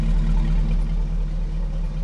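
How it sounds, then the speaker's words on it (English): A 2003 Hummer H2 exhaust idles steadily at night, a low continuous rumble heard up close with no talking. "I'll let you hear the exhaust."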